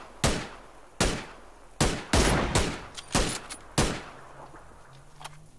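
A series of loud, close gunshots in the video game PUBG, about seven, fired at irregular intervals with some in quick pairs, each cracking sharply and decaying fast.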